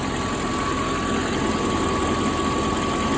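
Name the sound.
Mercedes M119 engine idling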